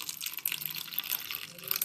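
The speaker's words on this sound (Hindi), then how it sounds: "अब मैं इसमें पानी ऐड करूँगी" Water poured into a bowl of gram flour and cornflour batter for crispy aloo tikki, a steady faint splashing trickle lasting a couple of seconds with no talk.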